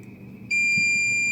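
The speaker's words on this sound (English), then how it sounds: "We are getting a beep, right?" A multimeter set to diode test mode beeps as its probes touch a mobile phone PCB: one steady, loud, continuous tone that starts abruptly and holds, over a faint low hum.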